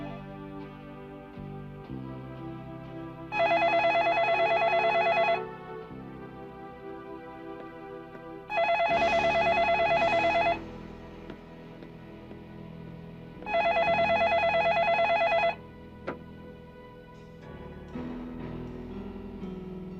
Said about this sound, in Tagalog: Hindi mo ba sasagutin ng telepono?